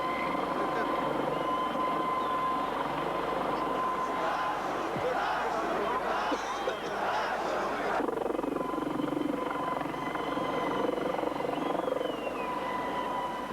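A French-built Dauphin helicopter drones steadily throughout, a broad rotor-and-engine rumble with a shift in tone partway through, while a voice talks over it.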